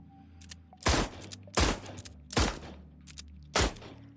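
Four loud, sharp gunshots spaced about a second apart, each with a short decaying tail, from a cocking pistol-style weapon in a Hellboy game built in Dreams, otherwise near silence.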